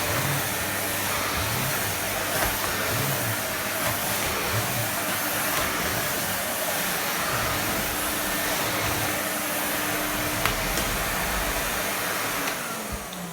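Miele S251i vacuum cleaner running over a floor in a house: a steady, loud motor whine and airflow hiss holding at constant level, with small bumps and shifts as the head moves, no voices.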